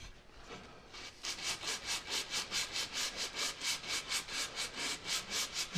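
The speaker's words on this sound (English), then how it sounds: "sand the edges where I've used the router right there" Rhythmic sanding of routed wooden board edges, a steady back-and-forth rasp repeating about three times per second, close and even after a brief quiet start.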